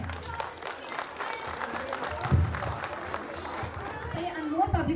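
Audience applause at a school annual function, a steady patter of clapping with a spoken voice running over it throughout.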